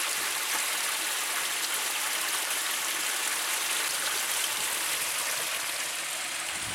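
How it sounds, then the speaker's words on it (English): Water pours over small old concrete dam steps at a lakeside stream, a loud, constant rushing splash heard close and unbroken. "these are the little waterfalls"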